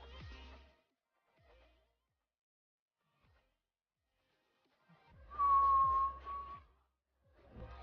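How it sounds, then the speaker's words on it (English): A person whistles into a microphone, one sustained clear note held for about a second, preceded by brief scattered voice sounds and quiet gaps. "Probably shouldn't whistle into my mic."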